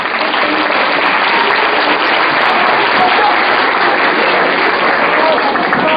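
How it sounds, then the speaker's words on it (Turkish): A school audience at a middle school quiz competition final applauds the students, a loud, unbroken wash of clapping that holds steady throughout. "Onun için bütün öğrencilerimizi bir alkışlayalım"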